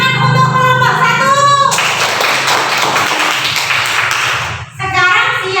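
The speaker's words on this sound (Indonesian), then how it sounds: "Beri tepuk tangan untuk kelompok 1." Pupils in an Indonesian school classroom clap for a group after its science presentation, a short burst of brisk, close clapping between stretches of an adult voice talking before and after.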